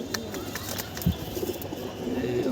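Pigeons coo softly at close range, a few low rounded calls repeating through faint background noise.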